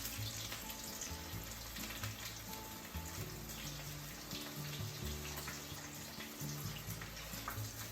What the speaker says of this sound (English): Let's put breaded shrimp gently into the oil.